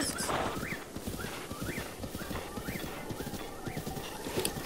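Horse galloping and neighing in The Legend of Zelda: Breath of the Wild, loud steady hoofbeats with repeated whinnies rising over them, close and continuous.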